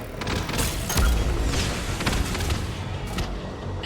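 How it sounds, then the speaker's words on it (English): Missile salvo launching in the Mass Effect video game, a run of heavy booming blasts and rumbling detonations arriving in quick succession, loud and close. "Firing another salvo."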